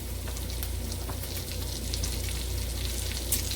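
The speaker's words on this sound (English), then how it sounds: "I'm going to just lay them in there just like so. in the grease." Floured beef short ribs sizzle and crackle steadily in hot grease, a dense, continuous frying hiss with fine pops throughout, close and fairly loud, no voices.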